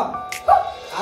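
A voice gives one short, sharp bark-like yelp imitating a dog at a children's birthday party game, surrounded by quiet murmuring.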